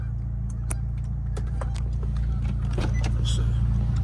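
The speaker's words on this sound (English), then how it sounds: "I'm gonna lower down my windows real quick." Power windows lowering on a Nissan Altima with a starlight headliner and sunroof, heard as a steady motor whir over a car's low idle hum, with faint clicks and a little movement nearby.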